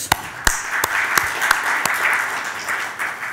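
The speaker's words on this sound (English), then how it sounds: "let's kickstart the event with a big round of applause for each other" An audience at an annual dinner event claps together, steady mid-level applause with a few sharp, distinct claps standing out near the front, lasting a few seconds.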